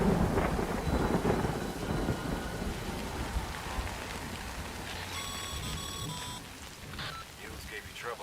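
Rain and thunder from the video game Death Stranding make a continuous stormy wash with low rumbles. Faint electronic tones chime briefly near the end, and there is no clear speech.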